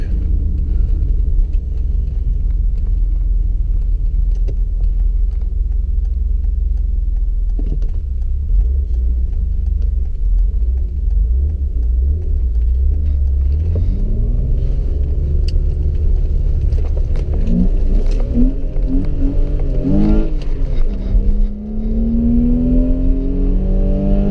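A 1991 BMW 525i E34 with NGK spark plugs pulls through city traffic, its engine a steady low rumble that swells as it revs up through the gears, with whirring rises near the end and no talk.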